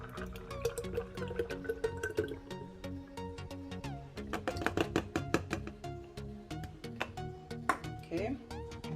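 A liquid ingredient poured into a peanut and Guinness punch mix, with drips, splashes and clinks in the kitchen while a person talks.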